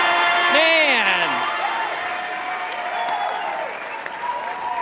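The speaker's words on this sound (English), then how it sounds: "Keep it going for Hal Dottie, everybody" An audience at a live comedy show applauds in a steady, broad wash, with a voice speaking over the clapping.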